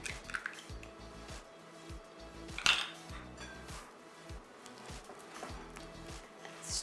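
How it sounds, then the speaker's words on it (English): Gluten-free keto bagel dough of flour, baking powder and egg is stirred in a bowl, giving soft wet squishing and scraping with light spoon clinks against the dish and one sharper clink midway. "Stir it up."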